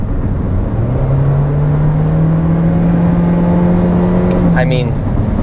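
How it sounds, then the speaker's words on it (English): A Toyota Corolla Cross Hybrid with a CVT accelerates hard, its engine holding a steady droning growl that rises slightly before easing off, heard from inside the cabin. "Yes, I don't like the way the powertrain sounds when I really put my foot in it."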